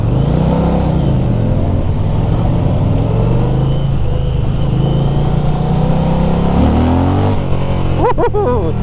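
Indian Challenger motorcycle (2020) in sport mode pulling away hard from a clutch dump, a steady loud engine drone that builds through the run, with a brief whoop of voices near the end.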